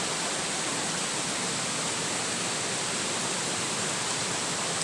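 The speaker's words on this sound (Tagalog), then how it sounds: "Malakas yung agos ng tubig" Rushing water roars in a dense, unbroken hiss, loud and close, like a strong stream in full flow.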